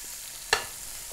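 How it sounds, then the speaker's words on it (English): Bacon fries in a frying pan with a soft, even sizzling hiss throughout, broken once by a single sharp clink. "So I'm going to put some bacon into my frying pan"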